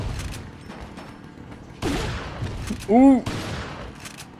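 Gunfire in Resident Evil 4, a few sharp shots scattered through the clip with one louder burst near the end, mixed with game noise while a player exclaims briefly.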